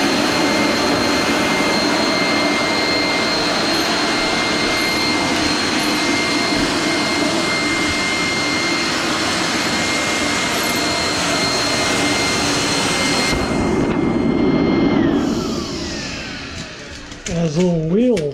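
A powerful vacuum cleaner roars steadily over a wool rug and hardwood floor, loud and close, then its tone drops and it winds down near the end with brief rattling shifts.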